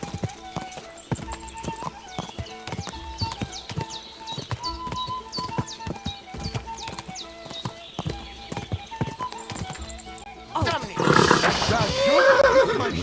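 Horse hooves clip-clop in a steady galloping rhythm with a neigh in Kingdom Come: Deliverance II on PS5, close and prominent, ending in a louder, noisier burst of activity.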